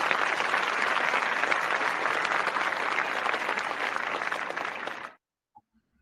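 An audience at a university presentation bursts into sustained, dense applause of many hands clapping, steady for about five seconds before cutting off abruptly into near silence with a faint stray sound.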